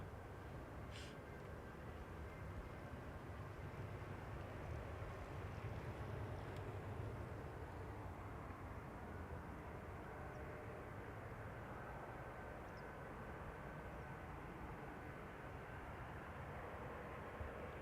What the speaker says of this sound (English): 1344, Embraer 190 arriving from Billund.